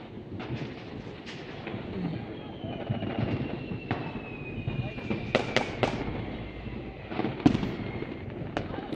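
New Year's fireworks bursting around a rooftop, a series of scattered cracks and booms, near and far, over a constant rumble of wind and distant noise, with people talking throughout.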